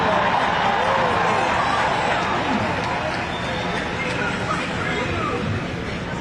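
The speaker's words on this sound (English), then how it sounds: "Such a great crowd out here." A large crowd at an outdoor 'No Kings' protest against President Trump fills the air with a dense, loud, continuous wash of overlapping voices and murmur that stays steady throughout.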